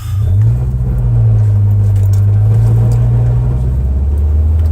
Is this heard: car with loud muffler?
yes